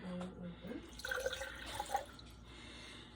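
Room-temperature water pours into a container sitting on a kitchen scale while a sourdough starter is being prepared; a soft, faint trickle and splash with a few small drips, close by.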